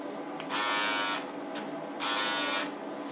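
Syska cordless trimmer for men switched on in two short bursts, a steady high-pitched electric buzz of about half a second each, close and loud against a quiet background.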